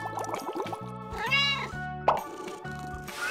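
A cartoon cat meows a few times between bubbly plops and bath sound effects, with light musical tones behind.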